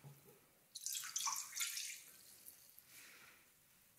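Water pours into a mixing bowl already holding egg, vinegar and oil, a brief splashing trickle lasting about a second, followed by faint drips and small clinks in a quiet kitchen.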